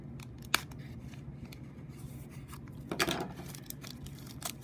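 A knife slices open a mail package holding four graded trading card slabs, giving sharp close cutting and tearing scrapes in short bursts, with one louder stroke near the end and no talking.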